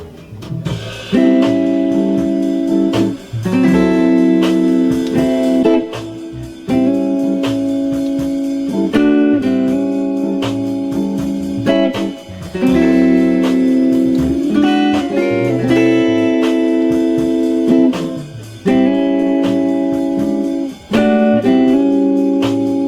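Strummed guitar chords repeat in a steady bluesy pattern following a single blues riff, bright sustained strums with brief pauses between phrases, played close and loud.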